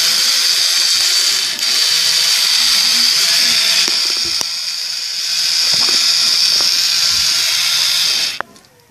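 A small motor inside a K'nex Plants vs Zombies model runs as a steady, loud buzzing whir that holds almost the whole time and cuts off sharply near the end. No one talks over it.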